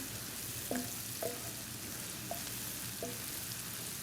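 Onion and celery fry in a pan with a steady low sizzle, broken by a few short tonal clinks of utensil against the pan.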